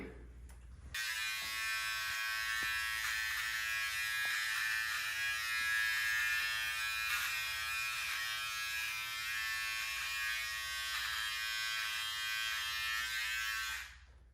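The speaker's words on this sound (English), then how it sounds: "I'm gonna use my trimmer with my guard set at number 3" Wahl electric beard trimmer with the guard set at number 3, trimming a goatee: a close, steady high-pitched buzz that switches on after a second, runs continuously and cuts off near the end.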